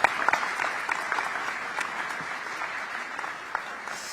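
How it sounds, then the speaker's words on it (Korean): Audience applause at a gathering of overseas Korean community members after an open-floor speaking session, warm continuous clapping from a roomful of people with a few sharper individual claps standing out. "자유 발언을 해주신 모든 분들께 다시 한번 감사의 박수 부탁드리겠습니다"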